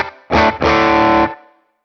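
Distorted guitar through a Morgan Amps Suite amp simulation with short, snappy reverb: a brief chord stab, then a sustained distorted chord that cuts off cleanly into a quick, tight decay.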